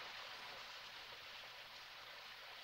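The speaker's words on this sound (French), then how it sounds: "une forte pluie se mit à tomber et éteignit les flammes" Heavy rain pours down over a forest fire, a dense, even hiss that stays constant and fairly loud throughout with no voices.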